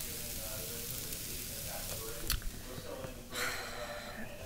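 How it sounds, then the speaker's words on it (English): Empanadas with grated beet and carrot filling sizzle in a frying pan, a steady close hiss with brief stirring scrapes, under a speaking voice. "Okay, so I'm frying them."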